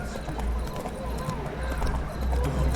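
Hooves of the horse Roach clatter in The Witcher 3 video game, a quick galloping clip-clop under a continuous layer of talk and game background sound, close and moderately loud.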